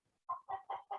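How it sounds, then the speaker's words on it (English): Backyard chickens cluck in four quick, evenly spaced clucks, close and fairly quiet against a silent background. "My chickens."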